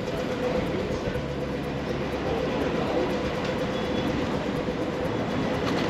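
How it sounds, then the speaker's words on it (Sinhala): A Sydney light rail tram rolls past, a steady rumbling rail noise with faint rhythmic clicks sustained throughout, fairly close and alone. "මේක තමයි සිඩ්නි වල තියෙන ලයිට් රේල් සිස්ටම් එක."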